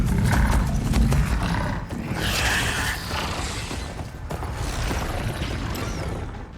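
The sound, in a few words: riders on machines in Horizon Forbidden West video game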